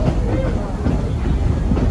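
A 1930s-era passenger train riding the Strasburg Rail Road, with a steady rumble and rhythmic clatter of wheels over rail joints heard from inside a coach, with faint voices underneath.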